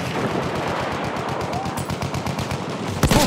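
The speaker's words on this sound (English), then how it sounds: "Talk to the machine gun!" A machine gun in a video game fires in a fast, steady rhythm of loud bursts, closing with a heavier blast at the end.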